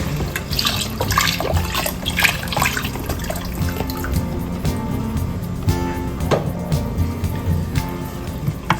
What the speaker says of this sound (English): It's really good bone broth. So I'm just going to pretty much keep putting until the rice is completely covered.